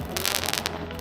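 Fireworks going off outdoors, a dense loud crackling burst of pops and bangs lasting about a second, close by, with no talk over it.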